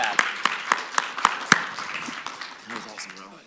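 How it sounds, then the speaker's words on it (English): Applause at a conference stream: a handful of sharp, evenly spaced claps ring out close by, then fade as voices start talking. "Let's give them a round of applause"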